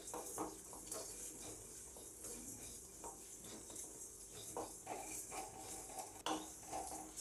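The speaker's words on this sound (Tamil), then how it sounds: "இப்போ சீரகம் மல்லி எல்லாமே பொரியுதுங்க." Cumin, coriander seeds, dried red chillies, black pepper and fennel dry-roasting in a pan. Faint light crackling mixes with occasional scraping and tapping as the spices are stirred.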